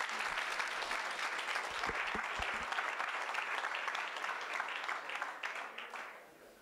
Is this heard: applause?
yes